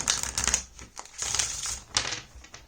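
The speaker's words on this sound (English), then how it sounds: "Let me shuffle one more time." A deck of tarot cards is shuffled up close, giving a steady papery riffle and flutter in several uneven bursts with short pauses between, with no talk over it.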